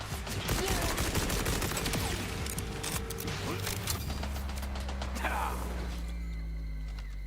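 Rapid bursts of gunfire crackle through a Borderlands 4 shooter game, dense and loud over mechanical clanks and low humming game sounds, with brief speech near the start.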